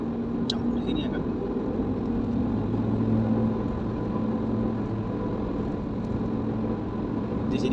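Heavy traffic with large container trucks on the Stabat–Belawan toll road heading to the port: a steady, dense low rumble of engines and tyres throughout, with no distinct pass-bys.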